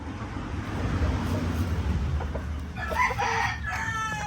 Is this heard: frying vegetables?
no